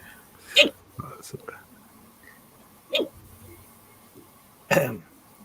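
Four sharp hiccups from a man come at uneven intervals, each a brief abrupt burst, with faint breathy murmurs in a quiet room between them.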